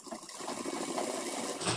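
A sewing machine stitches trouser fabric at a joint, giving a short, steady whirring run up close.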